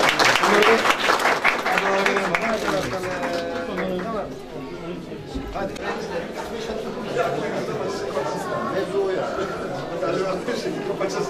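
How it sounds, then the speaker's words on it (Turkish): Applause at the opening ceremony of art workshops at a special vocational education centre, strong clapping at first that softens and carries on under chatter and people talking nearby. "Alkışlayabiliriz."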